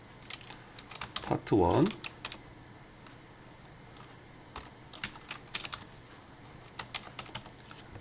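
Light, scattered taps on a computer keyboard while working in Photoshop, including a Ctrl+G shortcut press, soft and close, with a brief spoken phrase partway through.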